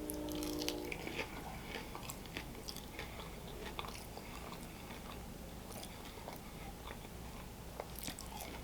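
Close, crunchy biting and chewing of crinkle-cut fries from a Shake Shack Korean-inspired menu, a steady run of soft crunches and mouth sounds with no talking.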